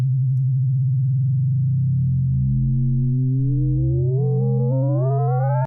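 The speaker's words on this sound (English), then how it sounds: "That frequency you heard sweeping up was the modulator's frequency, shining through the carrier." An FM synthesizer tone holds a steady low carrier while the modulator frequency sweeps smoothly upward through it, producing rising, bright, digital-sounding harmonics that climb until the tone cuts off abruptly.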